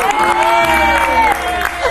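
A studio audience on a celebrity gossip show claps and cheers, with bright whoops and shouts over scattered clapping while voices talk through it.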